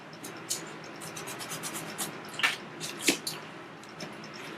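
Foam blocks for packing models are trimmed by hand in quiet, close rubbing and scraping strokes, with a few sharper scratchy accents amid faint background hiss.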